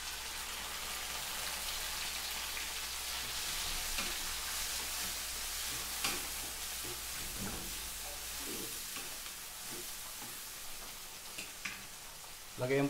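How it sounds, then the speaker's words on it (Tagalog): Onion and garlic with tomato sauté in a hot pan for squid adobo, a steady rain-like sizzle with occasional stirring scrapes, close and even, with brief speech now and then. "Igisa muna natin ang sibuyas, bawang."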